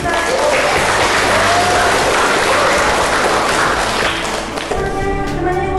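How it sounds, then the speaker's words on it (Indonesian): Classroom applause for a student named Marlina during a discovery-learning lesson: loud, dense clapping close by that holds steady and then tapers, with voices starting up at the end. "Ya, tepuk tangan buat Marlina."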